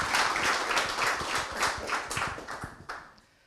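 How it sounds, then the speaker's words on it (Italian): A small crowd at a futsal team presentation for AS Roma Calcio a 5 gives a short round of applause, close and lively claps that taper off over a few seconds. "un applauso, te lo merita tutto"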